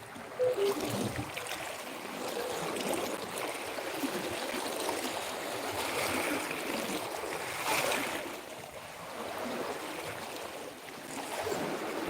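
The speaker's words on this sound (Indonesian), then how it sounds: "Di sini saja kita bisa lihat alur air ombaknya itu bisa sampai 1 meter ini." Sea waves and flowing water, with swells reaching about a meter during the west wind wave season, make a steady, dense rushing wash that swells slightly now and then, continuous and moderately loud.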